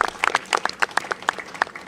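Scattered clapping from a modest outdoor crowd at an apartment ribbon cutting, individual claps clearly distinct and uneven, close by and moderately loud.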